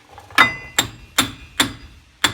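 Five sharp metallic hammer blows pounding out a CV shaft on a Chevrolet Silverado, evenly spaced about every half second, ringing briefly on metal, close and loud with no talking.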